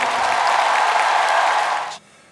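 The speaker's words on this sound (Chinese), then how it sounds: "请大家给点热烈的掌声。" A concert audience applauds warmly in a big hall, a full, steady wash of clapping that fades and cuts off near the end.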